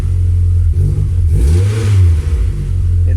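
A car engine revs during an alternator charging test on a car whose battery is not charging, the loud continuous drone rising and falling in pitch over a few seconds with no talking.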